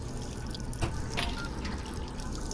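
Water running from a tap in the Job Simulator video game, a steady close splashing stream with a few drip-like splashes, continuous throughout with no talk.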